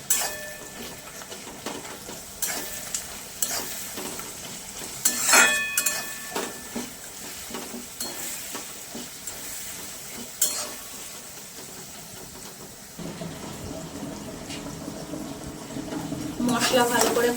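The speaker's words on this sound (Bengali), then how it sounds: "এবার ভালো করে মশলাটাকে কষে নেব।" Ginger and garlic spice paste stirred and fried in a pan, with a steady soft sizzle and scattered scrapes and clinks of a utensil against the metal, brief louder knocks throughout.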